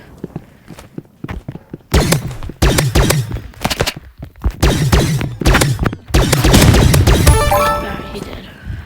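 Energy rifle shots in a video game: a loud, rapid series of sharp, punchy bursts in quick clusters, ending in a longer sustained blast with ringing tones.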